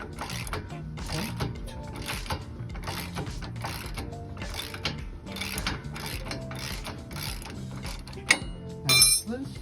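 Repeated ratcheting clicks in rhythmic bursts as a wrench loosens the rear shock bolt on a 2022 Dodge Ram pickup, close and steady, ending with a couple of sharper metallic clunks.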